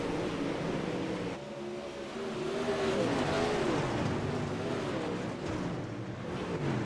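Super late model race cars roaring around the track during a race, a loud continuous engine drone with rising and falling revs as the cars pass, heard alone.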